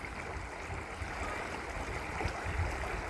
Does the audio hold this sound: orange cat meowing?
no